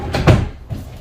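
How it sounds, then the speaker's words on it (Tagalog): A drawer on an IKEA TV stand sliding open or shut, one short close wooden rumble and bump, alone without talk. "Drawer."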